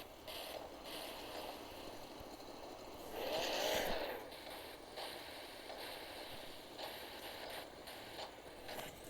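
A boat moves across water in the Gangstar Vegas video game, a faint steady engine drone and water wash with one brief louder splashing surge in the middle, no voices.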